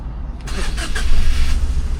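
A Suzuki DA17V minivan engine cranks and catches after a brief silence, then settles into a loud, steady idle close by.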